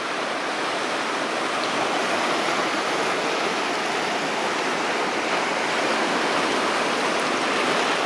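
Waves wash onto a beach at Meganom in Crimea as a steady, dense rushing surf that holds constant and fairly loud throughout, without distinct individual breaks and with no talking.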